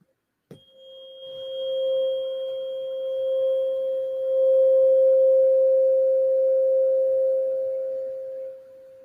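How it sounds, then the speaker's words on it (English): A 528 Hz tuning fork, struck once with a sharp tap, then a pure, steady sustained ring that swells slightly and slowly fades over several seconds, close and alone. "This is a 528 hertz tuning fork."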